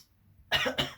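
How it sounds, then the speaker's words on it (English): Two quick throat-clearing bursts, close and fairly loud, following a brief quiet pause. "sorry, clearing my throat there."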